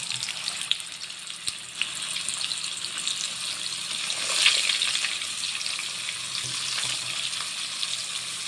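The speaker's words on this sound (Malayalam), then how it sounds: "നമുക്ക് കുറച്ച് ഇപ്പോഴേക്ക് ആവശ്യമുള്ള മീൻ മാത്രം വറുക്കാം" Fish frying in a pan during mutton biryani preparation, giving a steady crackling sizzle with occasional louder pops and a brief swell midway, close and continuous with no talk.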